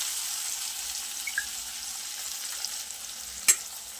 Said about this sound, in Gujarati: ડુંગળીને એકદમ સોફ્ટ થાય ત્યાર સુધી આપણે ફ્રાય કરી લઈશું.